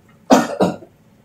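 A person with a cold and runny nose coughs twice in quick succession, close and loud, then falls quiet.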